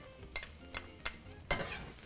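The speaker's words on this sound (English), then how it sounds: "Garlic first. You wanna hear that sizzle." Garlic sizzles in a hot wok for a vegetable stir fry while a utensil scrapes and stirs in a few distinct strokes, close and fairly quiet, with no talking.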